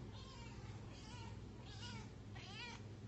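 A cat meows several times in drawn-out, rising and falling calls, close and fairly loud, over a steady low background hum indoors while a movie plays.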